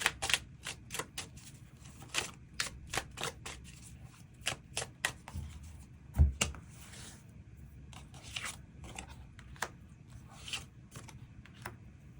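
Tarot cards are shuffled by hand to draw an extra card, a close series of sharp papery snaps and riffles with short pauses between bursts and one louder knock, no talk.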